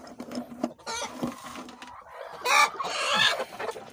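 Brown Dekalb laying hens cluck and squawk nearby in agitated bursts while eggs are collected, with a louder protesting squawk partway through and scratchy rustling underneath.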